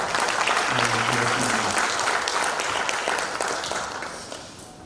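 Audience applause welcoming a university president to the podium at a Chong Shin University development plan event, a dense, steady wave of clapping that tapers off toward the end, with a brief voice early on.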